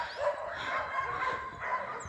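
A crowd of many dogs at an animal shelter bark and yip together in a continuous, overlapping din, heard at moderate distance without talk.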